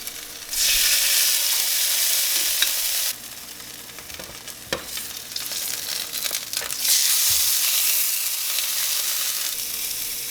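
A birria quesataco crisping in oil on a griddle, loud continuous sizzling that swells and dips as the tortilla is pressed and shifted, with a few scraping clicks of a spatula.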